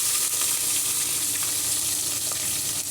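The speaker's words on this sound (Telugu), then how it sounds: "పచ్చిమిర్చి వేసుకుంటున్నామండి" Green chillies hit hot oil in a pan while kichidi is being cooked, giving a loud, steady, close sizzle with faint crackles and no talking.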